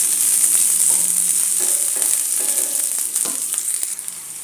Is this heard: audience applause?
no